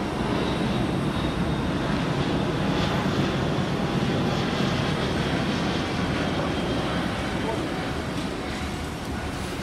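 An airliner taking off from London Heathrow produces a loud, continuous jet roar that stays steady and heavy throughout, with no break or fade.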